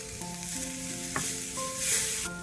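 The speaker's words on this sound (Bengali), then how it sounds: "এবার এই মশলাটা ভালো করে আমি কষিয়ে নেব" A ground spice mix of cumin, coriander and garam masala frying in a pan as it is stirred. A steady close sizzle with stirring scrapes runs throughout, and a faint tonal background sits underneath.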